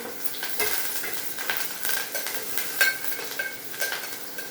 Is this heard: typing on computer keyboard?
no